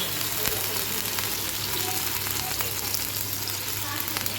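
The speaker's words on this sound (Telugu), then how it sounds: "ఇప్పుడు పెను వేడెక్కిందండి, దోశ వేసుకున్నాము. దానికి ముందు ఒక్క డ్రాప్ ఆయిల్ వేద్దాం." Pesarattu, an Andhra mung-bean dosa, sizzling with a drop of oil on a hot pan, a steady close hiss with faint crackles throughout and no talking.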